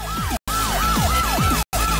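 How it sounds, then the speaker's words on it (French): A wailing alarm siren rises and falls in a repeating sweep, loud and continuous with no talk, briefly cut out twice. "C'est quoi ce bruit? Une sirène d'alarme?"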